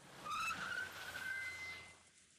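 A car screeches to a halt in the Umineko visual novel, a loud tire squeal rising and holding for about two seconds before fading out, heard alone without voices.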